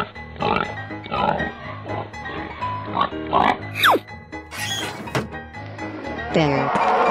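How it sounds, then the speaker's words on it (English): A pig oinks and grunts in a series of close, loud snorts in a children's animal game, interspersed with sliding whistle effects, clunks and cheerful jingles. "Pig."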